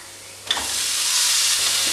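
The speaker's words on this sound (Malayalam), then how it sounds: "ഇനി ഇതിനകത്തേക്ക് തക്കാളി ചേർത്ത് കൊടുക്കാം" Chopped tomatoes dropped into a hot pan of frying okra masala, setting off a sudden sharp sizzle that settles into a steady steamy hiss.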